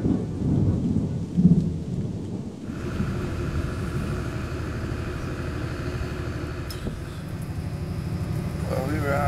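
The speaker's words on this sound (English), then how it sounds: "Very unseasonal rain this time of year" Unseasonal rain pours down steadily in the outback on the way to the Big Red Bash, a constant close hiss with low rumbling underneath and a brief louder thump near the start.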